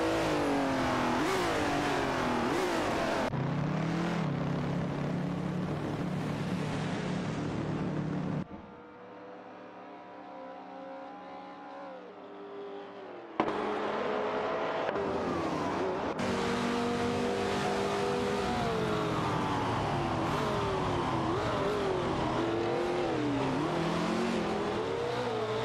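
Race car engines in a video game race roar and rev continuously, with pitch rising and falling as the cars shift and accelerate, loud and steady apart from a quieter stretch in the middle, and no voices.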